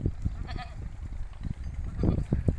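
A goat bleats in a few short, close cries amid scuffling farmyard noise, with some voices talking in the background.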